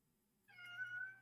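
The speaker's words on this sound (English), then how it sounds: "That's my cat." A single short cat meow sounds close and clear after a near-silent start, rising slightly and fading out within about a second.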